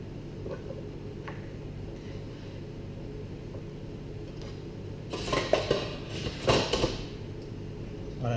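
A knife blade scraping chopped asparagus batons off a cutting board, a short burst of close scraping and clattering after a quiet stretch of low background noise, with no talking.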